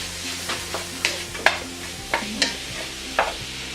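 Ground beef and mixed vegetables for spaghetti meat sauce stirred in a hot pan, a dozen or so sharp spoon scrapes and clicks at an uneven rhythm over a soft continuous sizzle, close and clear with no talk.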